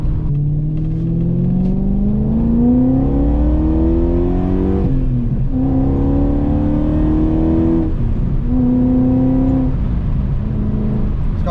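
A BMW E34 540i's M60B40 V8 engine runs loud and close, its pitch rising and falling through several revs before settling into a steady idle with the AC on.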